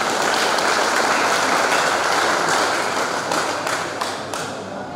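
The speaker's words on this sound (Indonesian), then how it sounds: "Tepuk tangan dulu buat Bapak-Bapak ini" Audience applause for officials after an inauguration ceremony of DPAC boards in Cimahi: loud, sustained clapping from a full crowd, steady throughout and easing slightly near the end.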